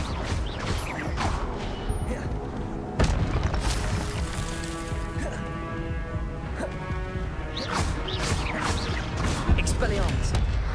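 Expelliarmus spells cast during Hogwarts Legacy combat, repeated sharp magical bursts and crashes amid creaking, mechanical game effects and steady background music, loud and continuous with several distinct hits.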